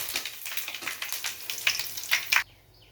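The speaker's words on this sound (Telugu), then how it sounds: "పోపు అయితే పెట్టేస్తున్నాను. కరింపాకు, తిరగబాటు గింజలు." Curry leaves and mustard seeds sizzle and crackle in hot oil in a pan, a close, busy frying hiss with sharp pops that stops abruptly near the end.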